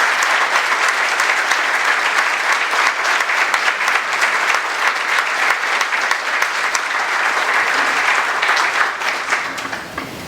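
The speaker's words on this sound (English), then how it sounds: "So give them a round of applause." Loud, sustained round of applause from an evening gathering honoring a planning committee at a scholars' celebration, steady dense clapping for about ten seconds that thins slightly at the end.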